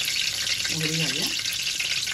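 Mustard seeds sizzle in hot oil in a kadhai as a steady, close hiss while they splutter, and a voice speaks briefly over the frying partway through.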